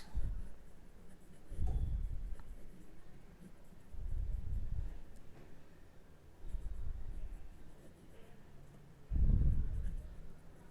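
Pilot Metropolitan fountain pen with a 1 mm stub nib writing on paper, soft close scratchy strokes in short separate bursts with quiet pauses between them.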